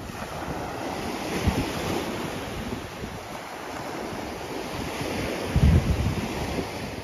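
Surf rolls steadily onto Puek Tian Beach in Petchaburi, Thailand, with a constant wash of waves and wind buffeting the microphone; one wave breaks louder and closer near the end. No voices.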